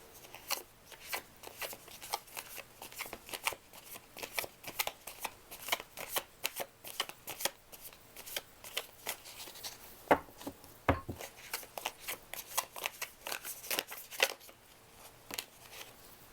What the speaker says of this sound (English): I will go ahead and shuffle the cards just a little bit more here